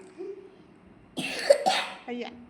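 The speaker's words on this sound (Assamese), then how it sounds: "কাহিছে" A child at home coughs three times in short, harsh bursts, fairly close and moderately loud, after a quiet stretch.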